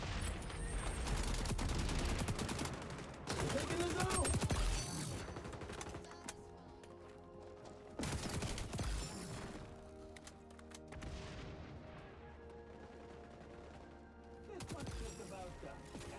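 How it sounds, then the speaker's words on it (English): Bursts of rapid automatic gunfire and crisp impact ticks from the shooter video game XDefiant, loud and punchy in several volleys separated by quieter gaps, with someone talking over parts of it. "They also have that really satisfying hit marker sound."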